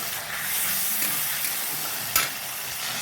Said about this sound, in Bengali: কড়াইতে তেল গরম হয়ে গেছে। গোটা জিরে আর তেজপাতা ফোড়ন একসঙ্গে দিয়ে দিলাম।